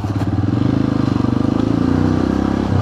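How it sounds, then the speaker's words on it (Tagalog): A motorcycle engine rumbles steadily up close, with the low drone of road noise underneath and no voices. "yung tunog ng makina ng motor, yung tunog ng kalsada"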